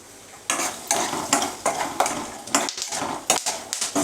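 Peanuts roasting in hot oil in a pan with a little salt, stirred in rapid repeated scrapes that rattle the nuts against the metal over a constant sizzle, close and loud with no talking.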